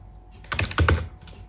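Several quick keystrokes on a computer keyboard while a MySQL query is typed, a short, soft burst of clicks at close range with no talking.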